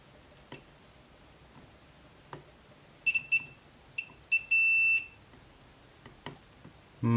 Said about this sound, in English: Getting out the old beepy beep.